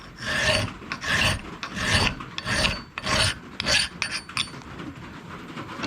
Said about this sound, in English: I'm going to hand file this down smooth.